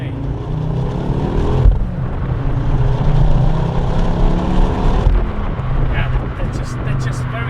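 A 2009 Ford Focus RS accelerating out of a corner, a loud steady engine drone rising under the cabin, with a brief shift-like break near the middle and someone talking over it.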